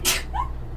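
A single quick sneeze, short and close, followed by a faint breathy sound.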